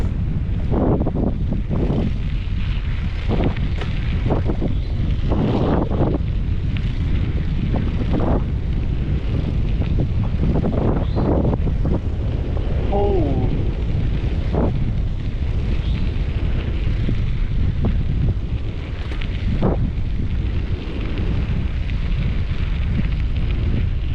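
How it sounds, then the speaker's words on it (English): Strong wind roars steadily into the microphone for the whole stretch, a continuous low rumble with gusty buffeting and scattered sharp pops from the mic being hit. "there's a crazy wind"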